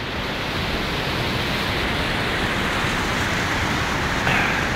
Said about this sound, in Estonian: siis on niuke jõgi kohiseb